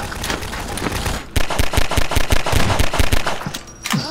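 Rapid gunfire from a shotgun in the video game Half-Life 2 Deathmatch, a dense run of loud, close blasts in quick succession with a brief pause near the start and another near the end.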